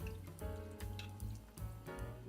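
Hot pepper juice poured from a jar into a slow cooker, a continuous liquid glug and splash with small drips, close and alone.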